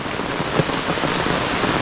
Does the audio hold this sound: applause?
no